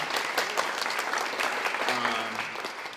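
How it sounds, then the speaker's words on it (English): An audience at an evening event claps in a dense, sustained wave of applause that stays strong throughout and eases slightly toward the end. "one more round of applause"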